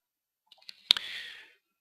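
A computer mouse click: a few soft ticks, then a sharp, crisp click with a short quieter trailing hiss, close and isolated against silence.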